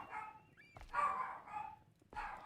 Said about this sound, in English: Sorry, my dog's going off like mad in the background.